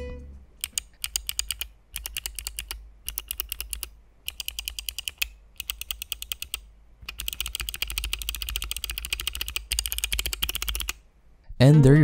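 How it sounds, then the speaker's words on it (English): Clicky keystrokes on a small mechanical keyboard macro pad, tapped in quick bursts separated by short pauses, close and crisp, ending with a brief low thump. "This is a really cute macro pad and this is what it sounds like."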